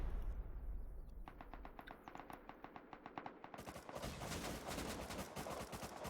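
Rapid bursts of gunfire and launcher shots crackle through a Rust 8v8 base raid, a fast rhythmic train of sharp reports that thickens into a dense, louder barrage partway through, with no talk.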